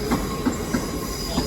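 London Underground Circle Line tube train at Paddington heading for Hammersmith, its wheels rolling over rail joints in a steady clickety-clack rhythm under a continuous rumble.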